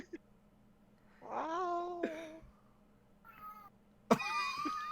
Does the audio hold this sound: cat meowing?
yes